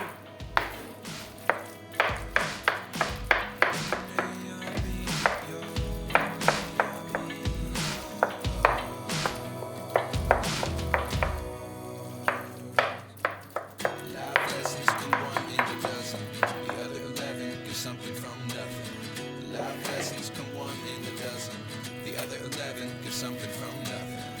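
A knife chops peppers and eggplants steadily on a cutting board in quick, irregular bursts of sharp taps, close up, with no voices.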